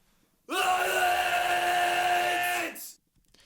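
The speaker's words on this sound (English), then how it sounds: "Here's that pitched scream." A pitched scream sound effect used in heavy music production rings out as one sustained, tonal wailing cry for about two seconds, loud and isolated, then cuts off.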